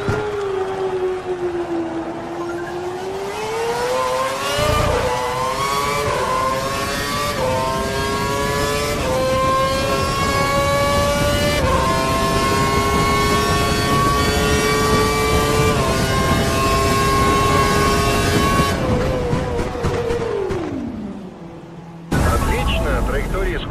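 An F1 car's engine in the racing game F1 2012 screams as it accelerates through gear after gear, each rising whine dropping sharply at the shift, loud and close throughout before falling away near the end.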